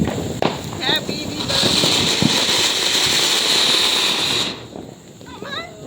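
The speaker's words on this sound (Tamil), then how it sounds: "நல்லா இருந்துச்சு பட்டாசு வெடிக்கிற மாதிரி வெடியே" Firecrackers set off outdoors by a group of kids, a sustained hissing, crackling burst lasting several seconds with sharp pops at the start, while people's voices carry on around it.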